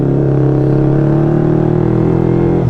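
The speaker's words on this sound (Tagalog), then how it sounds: "sobrang ingay ng motor na to" A motorcycle engine runs loudly and steadily up close, a continuous low rumble with a slight rise in revs near the end.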